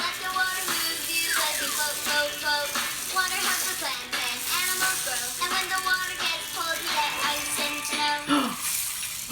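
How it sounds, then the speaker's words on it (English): A rain stick rattles continuously, a dense cascade of small beads pattering and trickling for several seconds, with faint musical tones underneath. "your rain stick out and get it ready because we're going to use it for our water song"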